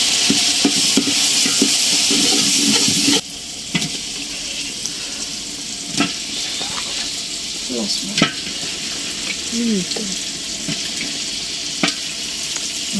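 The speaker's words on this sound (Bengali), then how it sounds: "মশলা কষানো হয়ে গেছে" Biryani spice masala fries and is stirred in a pan, a loud sizzle at first that drops to a softer crackle, broken by scattered scrapes and knocks of a spoon.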